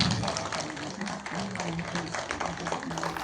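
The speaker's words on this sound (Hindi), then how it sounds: "जोरदार तालियां।" Enthusiastic audience clapping at an oath-taking ceremony in Bhilai, a dense, continuous patter of many hands throughout with a voice over the amplified sound system.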